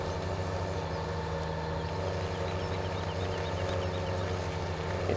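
A New Holland T5 tractor engine running in Farming Simulator 17, a steady low drone with a constant hum throughout, moderately quiet and unbroken, no talk.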